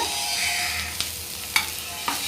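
Chillies coated in masala are stirred in a frying pan, a steady close sizzle of hot oil broken by three or four sharper scrapes of the spoon against the pan.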